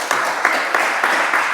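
Church congregation at a family worship service applauds to welcome the pastor, a close, loud burst of many clapping hands with faint voices mixed in.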